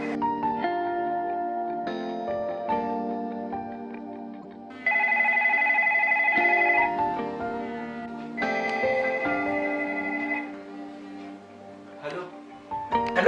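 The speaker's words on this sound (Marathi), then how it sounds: "थांब प्रशाला फोन लावतो" A phone rings while a call is placed: a melodic ringtone repeats in steady tonal phrases, fairly loud and close, with no clear talking.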